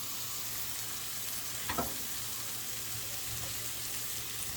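Chicken and zucchini sizzling and frying in a pan, a steady faint crackle and hiss with a brief stirring scrape partway through, and no voices.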